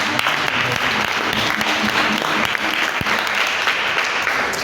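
A church congregation applauds at a service, a loud, dense, continuous clapping close by that holds steady throughout.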